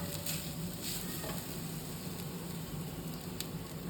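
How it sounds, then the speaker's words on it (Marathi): Grated coconut lightly stir-fried in a pan for sweet coconut rice, a steady dense hiss with occasional soft clicks of stirring, close and even, no voices. "साधारण अर्धा ते एक मिनिट फक्त परता"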